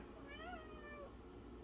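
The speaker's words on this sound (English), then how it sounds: "that is my cat" A house cat meows once with a rising and falling tone, close and fairly quiet, over a steady low room hum.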